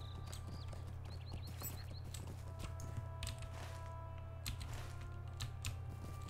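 Horse hooves clip-clop steadily in the fantasy video game Lord of the Rings Online, a faint rhythmic patter over a low ambient hum, with no talking.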